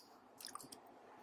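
Chewing a chocolate chip Pop-Tart: a faint, brief burst of soft crunchy, sticky mastication noises close to the mic, with no talking.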